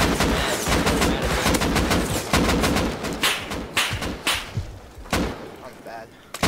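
Bursts of gunfire in the survival video game Rust, rapid close cracks and thumps firing in fast irregular volleys that thin out toward the end, with a player talking over the shooting.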